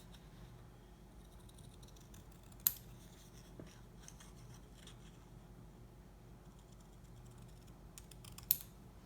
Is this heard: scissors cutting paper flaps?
yes